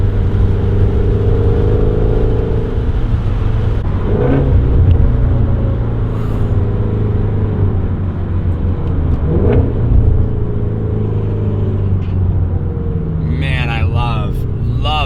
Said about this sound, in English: Rev matching this car. The exhaust sounds killer.